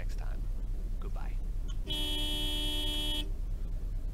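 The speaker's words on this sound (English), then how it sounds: "That is such a lousy-ass horn." A weak, thin-sounding car horn on a restored Jeepster in BeamNG.drive sounds one steady honk of a bit over a second, with bright stacked tones, over a constant low engine drone.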